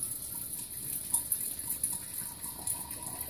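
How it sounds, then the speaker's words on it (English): Fermented Kool-Aid is poured slowly from a container, giving a soft, continuous liquid trickle with light splashy flutters. It stays fairly quiet and plays alone. "we're going to pour this real slow and try not to disturb that too much"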